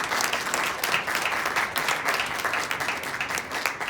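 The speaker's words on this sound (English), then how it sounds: "So I want to give our lovely panelists a big round of applause." An audience applauds panelists at the close of a retail industry panel session, a steady, dense clapping that holds at even loudness throughout with no voices over it.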